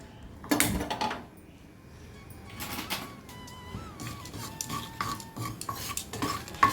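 A utensil scrapes and stirs gram flour with carom seeds in a dry pan, with irregular clinks and rattles and a faint whistling tone in the background.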